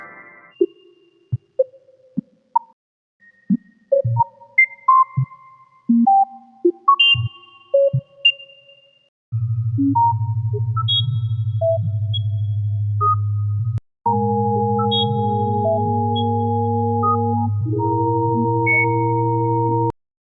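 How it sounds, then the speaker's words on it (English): A sequence of pure electronic sine tones, first scattered beeps at varying pitches, then sustained stacked tones layering together, clean and steady with no voices. "it's an array of sine waves from lower to higher frequencies"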